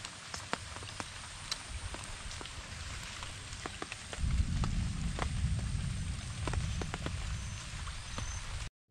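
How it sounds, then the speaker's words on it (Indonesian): Rain patters by a river, scattered drops ticking sharply over a soft hiss that thickens into a heavier, denser wash midway through. "Macam hujan ni."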